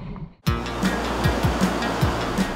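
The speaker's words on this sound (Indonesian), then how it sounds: "khas ombak pantai selatan yang besar dan kencang" Large, powerful ocean waves breaking on a southern-coast beach in Indonesia, a loud roaring wash that surges in abruptly and churns continuously, close and unbroken by voices.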